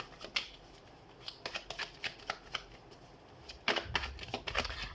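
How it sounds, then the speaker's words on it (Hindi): Tarot cards are shuffled by hand in quick irregular bursts of papery riffling and flicking, close and crisp, with brief pauses between runs and no talking. "तो सबसे पहले हम कार्ड शफल कर लेते हैं।"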